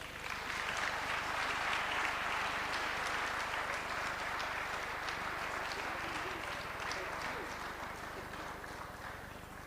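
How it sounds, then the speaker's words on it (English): An audience applauds for a government minister at a G20 event in the Free State, South Africa, giving continuous, even clapping that fades slightly toward the end, with some crowd voices underneath. "It's a Free State applause."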